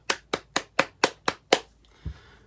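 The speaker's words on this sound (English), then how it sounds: "Let's give them a clap." Seven sharp, evenly spaced hand claps ring out close and loud in a small room, followed by a softer thud, with no talking during the claps.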